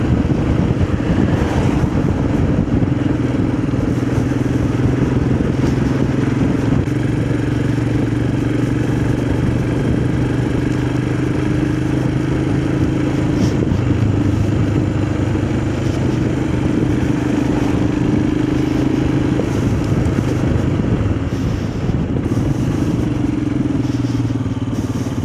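A Voge 300 Rally motorcycle on the move, its engine droning steadily with a low, even hum and constant wind buffeting the microphone, loud and continuous throughout the ride.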